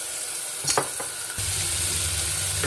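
Food frying in extra virgin olive oil, a couple of light clicks and taps, then a steady, fairly loud sizzle starting abruptly and continuing close by, no voices.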